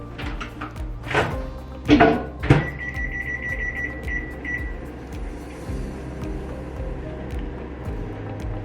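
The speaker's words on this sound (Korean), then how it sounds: "비닐을 제거하고 전자레인지에 5분만 돌리면 돼요." A microwave oven heats a plastic-wrapped diet lunchbox of pork tenderloin and chicken curry fried rice, giving a steady low hum after a few knocks, with a short tone sounding partway through.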